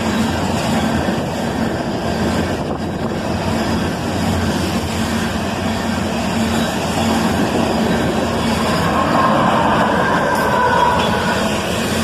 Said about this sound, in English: there's that other locomotive, another ES44 ACH, helping keep this loaded train moving at a pretty good pace for its weight